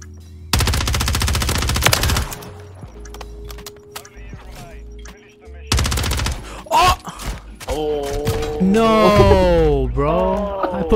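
A Scorpion Evo (HRM-9) submachine gun fires in a video game in two long, loud rapid-fire bursts. A pause of quieter game noise separates them, and a voice talks afterward over further sounds.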